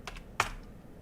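A few quick computer keyboard keystrokes while working on a game dialog system, two light taps followed by a sharper louder clack, close and alone in a quiet room.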